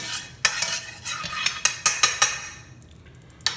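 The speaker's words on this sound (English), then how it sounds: "we're gonna put in about a cup of flour and mix up a real dark roux" A spoon stirs about a cup of flour into hot melted fat in a pot, making a dark roux for chicken and sausage gumbo: a run of sharp scraping clinks against the pot with a soft sizzle underneath, and no talk.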